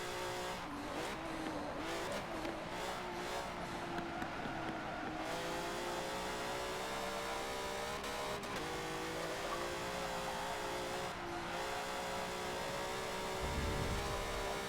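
In a Forza race, a Koenigsegg Regera's engine drones at high revs, the pitch rising and shifting across several gear changes, with brief tire squeals and skids along the way and a low thump near the end.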